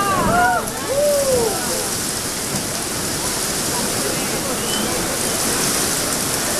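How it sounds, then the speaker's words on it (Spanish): Steady heavy rain pours down in a dense, continuous hiss, close and loud, with faint watery splashing underneath. "¡Qué lluvia perfecta!"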